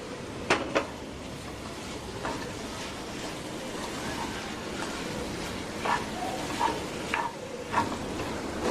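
Boiled mutton drops into spiced masala in hot oil for a Tamil mutton fry, setting off a steady, close sizzle with a few sharp stir-and-scrape clatters spaced through it.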